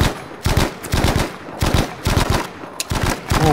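Bursts of automatic gunfire from Battlefield V, several loud rapid volleys separated by short pauses, close and dense, with no talk over them.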